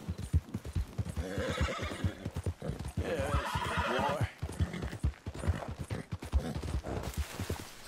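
Horse in the game Red Dead Redemption 2 whinnies and neighs over steady clip-clop hoofbeats at a fast gallop, loud and close throughout, with brief low background voices.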